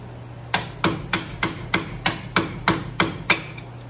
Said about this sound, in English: See if we can get an angle to just punch it out.